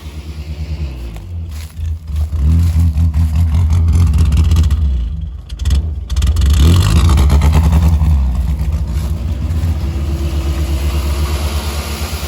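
A 1967 Morris Minor car engine runs steadily throughout, idling roughly with loud revs rising and falling and a brief dip in the middle, close up with no talking.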